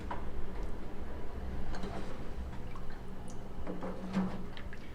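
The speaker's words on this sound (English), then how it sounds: "As this goes, I'll gently stir it." A spoon stirring sugar and cinnamon apple spice into a jar of apple pie moonshine, with soft irregular clinks and faint liquid drips over a low steady hum, close and quiet with no talking.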